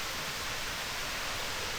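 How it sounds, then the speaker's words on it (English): Waterfall beside a hiking trail at Kittys Gorge, a steady broadband rush of falling water heard close and fairly loud, unbroken throughout. "You got this waterfall"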